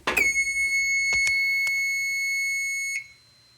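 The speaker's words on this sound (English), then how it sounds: "okay, there's the alarm." Fire alarm system sounding during a test: a loud, steady electronic tone held for about three seconds with a few faint clicks underneath, then cutting off abruptly.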